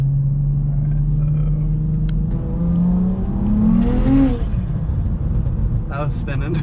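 BMW 335i with an N54 engine and single-turbo conversion pulling hard in second gear, a steady engine drone climbing in pitch toward the rev limit before easing off, heard from inside the car with a voice talking over it.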